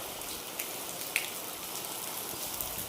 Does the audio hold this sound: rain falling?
yes